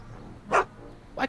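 Two short barks from Einstein, the dog in the Back to the Future video game, about 0.7 seconds apart, fairly close and clear against a quiet background.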